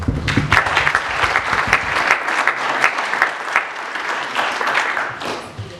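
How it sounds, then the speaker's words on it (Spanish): A seminar audience on violence and crime in León, Guanajuato applauds a speaker, with dense steady clapping that stays fairly loud for about six seconds. "les pido por favor que le demos un gran aplauso a nuestra ponente"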